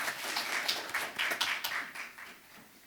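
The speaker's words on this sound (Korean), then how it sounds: "박수로 맞아주시기 바랍니다." Audience at an academic literature conference applauds to welcome a speaker, a brief patter of soft, scattered claps that fades toward the end.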